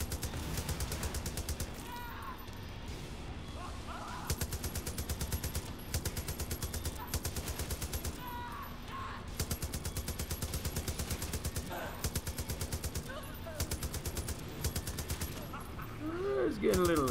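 Rapid automatic gunfire and bursts of shots from the video game Far Cry 5, a zombie mode, sustained and loud throughout with explosions, under someone talking.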